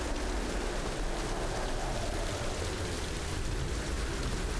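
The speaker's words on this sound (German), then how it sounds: "Und das ist doch schon ziemlich viel Regen." Heavy rain falls in the video game Tomb Raider (2013), a dense, steady broadband hiss that runs without a break, with no speech over it.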